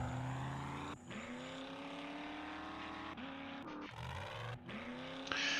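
A 4x4 vehicle driven in the video game 7 Days to Die, its engine droning steadily and revving up through several gear changes with brief cuts and dips, loud and close.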